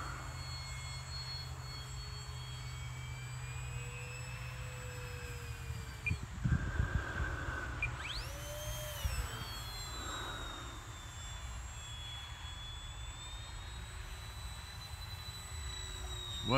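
A small Hawker Hurricane/Tempest airplane's engine drones steadily overhead for a long stretch, its pitch rising and falling as it maneuvers, with a brief louder rush midway.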